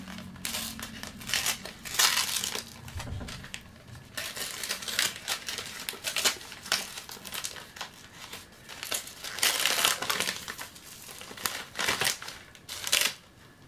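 Bubble wrap and packaging crinkle and crackle in uneven bursts as something is unwrapped nearby, with loud rustling peaks and quieter pauses between.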